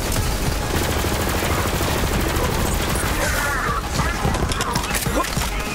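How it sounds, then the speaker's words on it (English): Shotgun blasts from Borderlands 3 gameplay, loud and close, with rapid repeated shots blending into a dense, continuous barrage of gunfire and game noise, while some speech is faintly mixed in. "Dude, this shotgun puts in some work."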